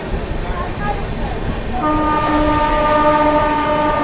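Mithila Express passenger train passing straight through Kiul Junction platform 5 in the evening without stopping, a steady loud rolling rumble that swells after a couple of seconds, with a sustained horn tone sounding over it.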